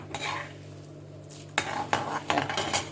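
Urad dal and lentils dry-roasting in a pan for rava kichadi, stirred in bursts of scraping and rattling against the metal, close up over a soft steady sizzle.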